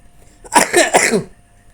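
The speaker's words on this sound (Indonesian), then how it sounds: "Maaf, saya lagi batuk." A short burst of two or three harsh coughs, close and fairly loud, with no talking.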